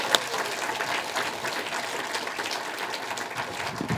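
An audience at a PyData London 2017 lightning talks event bursts into steady applause, a dense wash of clapping hands that holds at an even level from start to finish.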